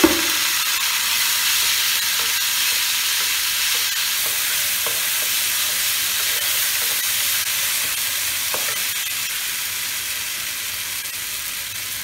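Chicken with raw mango frying in a pan after a splash of water is added, giving a steady close sizzle and hiss throughout with occasional stirring scrapes, no talking.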